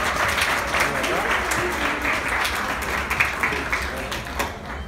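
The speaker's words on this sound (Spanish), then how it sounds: "Aplausos para Matías entonces." Applause from an audience at a sixth-grade graduation ceremony, a dense steady patter of many hands clapping throughout, with some background voices mixed in.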